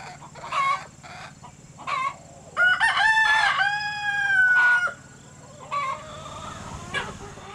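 Chickens on a farm, with a rooster crowing loudly in a long drawn-out call and hens clucking in short bursts before and after it, close by with no talk.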